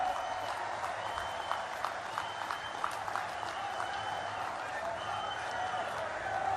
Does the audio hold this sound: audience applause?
yes